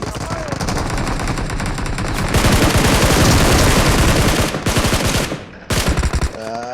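Loud, dense bursts of machine-gun fire from an accidentally played gunshot sound effect, continuous rapid volleys that break off briefly near the end before a few more bursts.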